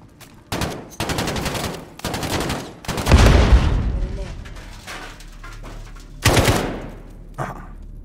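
Repeated bursts of automatic gunfire in the video game Call of Duty: Modern Warfare, loud and close, a heavy blast in the middle and sharp rattling volleys before and after.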